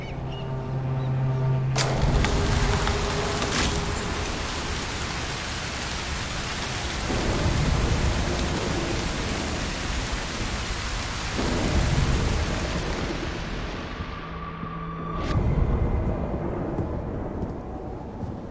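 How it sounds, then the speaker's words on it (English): A thunderstorm with heavy steady rain rolls on in the video game Broken Pieces. Several deep rumbling thunder peals swell and fade beneath a constant downpour, with a sharp crack near the start and another toward the end. "A storm could help."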